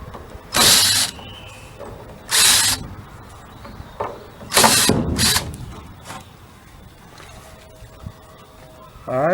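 A power drill backs screws out of the corners during the first phase of a build, giving three loud separate bursts of whirring with quieter mechanical clicks and handling noise between them.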